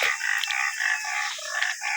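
A rooster crows once, loud and close, a drawn-out strained call lasting about two seconds.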